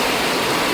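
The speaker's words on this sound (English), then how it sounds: "Guys, it's raining." Steady broadband rain falls close and continuous on a cool, cloudy early-June day in the hills of Sakleshpura, a dense even hiss with no voices over it.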